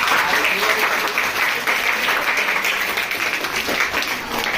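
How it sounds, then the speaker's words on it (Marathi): An audience claps loudly and continuously at a school poster painting event, with dense, even applause throughout and some voices mixed in. "हा जोरदार टाळ्या वाजवा."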